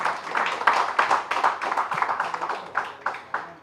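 Audience applause at a Telugu political speech, dense rapid clapping from a crowd, steady and fairly close, with a faint voice underneath.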